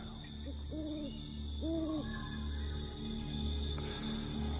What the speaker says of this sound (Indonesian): Sesekali ku dengar juga suara burung dan binatang-binatang malam lainnya.